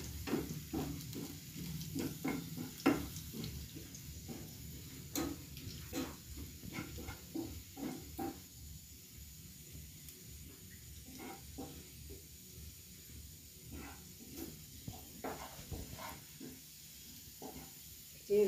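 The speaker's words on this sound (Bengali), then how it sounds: "যে রসুনটা ভাজা হয়ে গেছে" Garlic frying in a pan for chilli chicken, turning light golden brown, with a steady soft sizzle and intermittent stirring clicks throughout.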